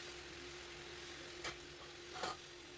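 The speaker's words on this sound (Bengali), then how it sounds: "যত যত ফ্রাই করব তত মাংসটা ভালো হবে।" Chicken pieces frying in a pan for curry, a quiet, steady sizzle with a faint hum beneath and two brief stirring scrapes near the end, no voices.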